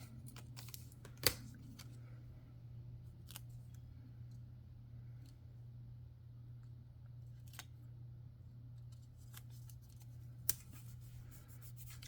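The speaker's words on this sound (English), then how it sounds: "cutting up the flowers in half and just sticking them random places" Scissors cut paper flower stickers at a planner decorating session, quiet snips and a few sharp clicks spaced over a low steady hum, close and faint.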